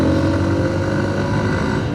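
Steady engine drone of a TVS Apache 160 4V motorcycle riding at around 60 during a rear brake test, a continuous loud rumble with wind noise and no speech.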